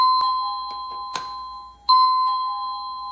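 A wireless doorbell sounds its ding-dong chime, clear electronic tones ringing close and loud, with a short click and a second ding ringing out alone.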